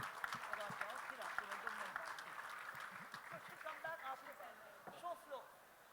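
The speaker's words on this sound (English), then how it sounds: "Can we have a very, very, very big clap for her?" Faint, scattered clapping from a literature festival audience, with voices murmuring over it, quiet and distant throughout.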